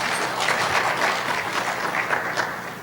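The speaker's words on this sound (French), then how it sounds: "Donc un dernier applaudissement, mesdames et messieurs." Audience applause at an end-of-year ceremony for foreign students in Bejaia, a steady wash of many hands clapping, moderately loud and fairly even throughout, tapering slightly at the end.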